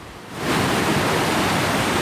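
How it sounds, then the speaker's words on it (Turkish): A flood torrent rushing through a neighbourhood, recorded on a phone, surging in after a brief quieter moment into a loud, steady roar of water that fills the recording. "Bir vatandaş mahalleyi adeta önüne katan seli cep telefonuyla kayda aldı."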